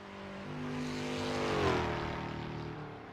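A historic 3-liter race car on the Targa Florio circuit passes by, its engine rising to a close, loud peak with a falling pitch sweep, then easing away.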